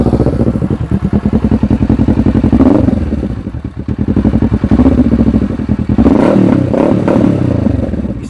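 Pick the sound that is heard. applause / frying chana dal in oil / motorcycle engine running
motorcycle engine running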